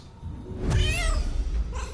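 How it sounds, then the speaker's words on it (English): Cat meowing in the video game Baldur's Gate 3, a single drawn-out rising and falling meow over low background game ambience, fairly clear and close. "Let's go, Mittens the cat. Meow, meow!"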